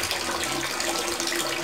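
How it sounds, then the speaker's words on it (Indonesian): Water spills from a bucket in a fine shower-like stream into a tilapia pond, a loud, steady, continuous splashing and gushing close by with no talking. "Ini sengaja saya kasih ember supaya turunnya kecil dan kayak pancuran dia."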